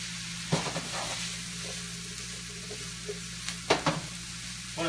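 Mushrooms and garlic sizzling in a pan, a steady soft hiss of frying with a couple of clear clinks and scrapes of a utensil stirring, close by and without talk.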